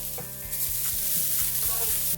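Grated coconut roasts in a pan, giving off a steady dry sizzle with a regular scraping and stirring rhythm that repeats every half second or so. It sounds close and even, with no voices.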